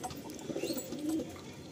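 Madrasi pigeons in a loft coo in soft, low, bubbling phrases, one stretch after another, close by but not loud, over a light background hiss.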